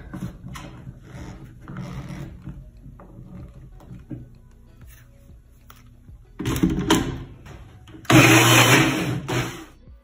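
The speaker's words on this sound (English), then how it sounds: "Now blend or mix ingredients until smooth." A few quiet knocks and handling sounds, then a blender whirs loudly in two bursts blending sweet potato dip, the second harsher and more intense.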